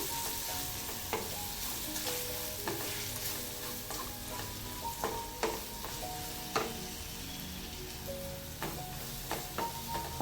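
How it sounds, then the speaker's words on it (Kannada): Ivy gourd stir-fry with sambar powder sizzles in a pan as a spatula stirs it, making repeated scraping strokes at an irregular pace over a continuous frying hiss. "ಎಲ್ಲದನ್ನು ಹಾಕಿ ಚೆನ್ನಾಗಿ ಮಿಕ್ಸ್ ಮಾಡಿಕೊಳ್ಬೇಕು"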